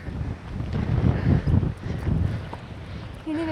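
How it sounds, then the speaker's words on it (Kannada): Strong wind buffets the microphone at the summit of Ambajidurga hill by the Shiva Linga temple, a loud, rough rush with gusts that rise and fall, as voices speak faintly beneath it. "ಗಾಳಿ"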